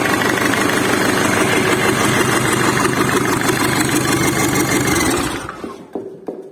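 An Iveco 2.8 TD diesel engine, offered for a Gazelle van, runs loud and steady close by, then cuts off abruptly near the end, leaving a few faint knocks.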